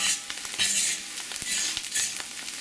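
Corn kernels sizzle and fry in a very hot pan while being stirred and turned, a steady close crackle with scraping pulses of stirring and no talking.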